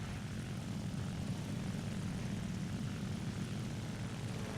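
Japanese Ki-84 propeller fighter engine in the War Thunder flight game, a steady, loud droning roar with a dense low rumble that holds unbroken throughout.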